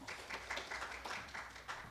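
Faint audience applause for a speaker at a healthcare forum lecture: a soft, steady patter of many hands clapping, heard at a distance.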